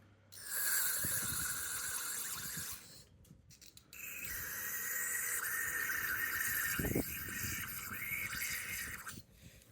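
Steady hissing spray of cleaner onto a car's idle air control valve bursts out twice, a long jet broken by a short pause, close up, with some light scraping and handling noise underneath.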